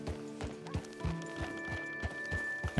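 Horse hooves clip-clop in Red Dead Redemption 2 Online in a steady walking rhythm, close and moderately loud, over a soft ambient music drone.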